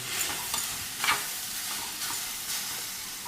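Grated carrot stirred into a hot tempering, soft sizzling under several scraping stir strokes at an irregular pace, close by and without talk.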